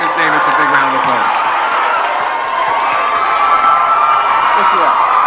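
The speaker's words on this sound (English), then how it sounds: "So let's give Miss Davis a big round of applause." A school audience at a Christmas Carol stage show applauds and cheers for the show's director, loud continuous clapping mixed with whoops and shouting voices filling the hall.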